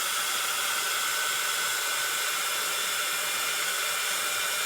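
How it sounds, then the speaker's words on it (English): A heat gun blows a steady, even hiss of hot air to dry a handmade paper card, constant and close with no pauses and no voices. "I'm just going to run the heat gun just to dry this for a minute."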